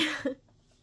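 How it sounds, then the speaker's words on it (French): One short, husky cough from a person with a sore throat, close to the microphone, quickly fading into quiet. "je tousse puis j'ai comme mal à la gorge un peu"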